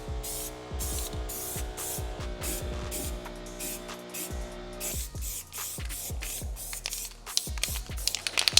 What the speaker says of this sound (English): After letting that dry, it was time for some etch primer.